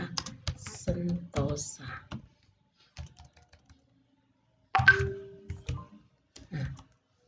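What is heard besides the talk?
typing on computer keyboard in Microsoft Excel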